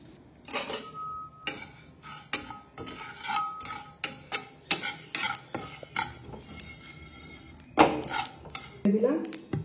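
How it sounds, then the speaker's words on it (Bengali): Cumin and nigella seeds fry together in a pan for an olive pickle, mostly loud irregular clanks and scrapes of a spoon against metal over a low background sizzle. "জিরে কালো জিরেটা আমি একসাথেই ভেজে নিই।"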